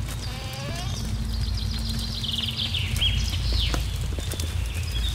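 A sheep bleats and walks in the Force of Nature video game, with repeated wavering bleats and soft hoof steps over a constant ambient hum, close and moderately loud.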